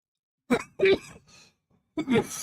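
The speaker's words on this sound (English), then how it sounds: "Sorry, coughing." A few sharp, close coughing bursts separated by brief pauses, with a final harsher cough at the end.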